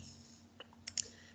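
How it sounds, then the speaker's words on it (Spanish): A few light key clicks of typing on a computer keyboard, close and fairly quiet, scattered over a low steady hum. "vamos a ir tecleando"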